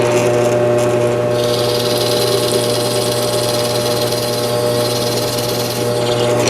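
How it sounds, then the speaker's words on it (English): Power tool countersinking holes in boat seat braces, a loud, continuous motor drone with a steady hum and a brighter, harsher stretch in the middle. "So what I'm doing here is countersinking some holes."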